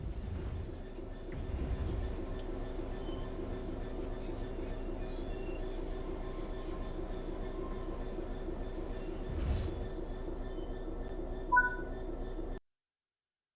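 A train in Train Sim World 3 rumbles steadily as it slows under the brakes, with faint high squeals from the wheels and a brief surge near the end before it falls silent.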